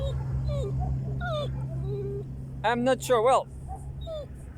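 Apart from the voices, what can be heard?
dog whimpering and yipping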